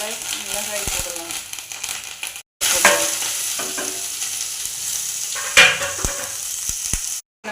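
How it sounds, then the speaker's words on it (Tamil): Mustard seeds and onion fry in hot oil as the tempering for an eggplant sambar, giving a steady close sizzle with stirring clinks and crackles, partly under a voice and background music, with two short dropouts. "கடுகு போட்டு வெங்காயத்தை போடணும்."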